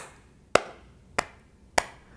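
Three sharp open-handed claps spaced evenly about a second apart, bright and high-pitched, each ringing briefly in a quiet room.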